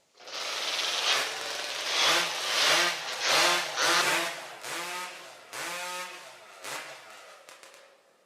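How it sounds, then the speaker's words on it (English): Racing chainsaws at a STIHL TIMBERSPORTS Nordic Pro Championship are revved up during warm-up, several loud, close engine surges rising and falling in repeated bursts over about eight seconds. "Warm it up. Make sure that carbon's blown out and the engine is ready to go."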